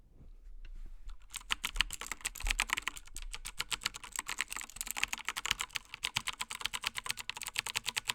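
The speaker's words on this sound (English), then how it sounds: "hear something and be happy with hearing the blue switches" Fast, steady clacking of a mechanical keyboard with blue switches, sharp keystrokes in a dense rhythm with no voices, close and fairly quiet, picked up by a SmallRig Forevala U50 USB-C condenser microphone.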